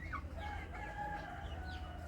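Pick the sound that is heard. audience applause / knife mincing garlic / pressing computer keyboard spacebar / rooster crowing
rooster crowing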